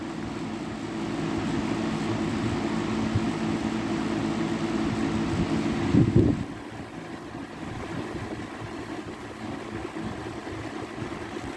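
A 2003 Lakewood model 101 electric fan runs with a steady, airy whoosh over a low motor hum, briefly rising around the middle and then settling slightly quieter; no one speaks.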